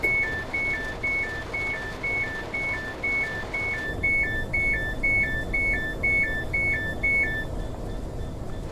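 A door release warning on a Class 385 train in Train Sim World sounds as a repeating two-tone electronic beep, steady and evenly spaced for several seconds over a low cab rumble, with no voices.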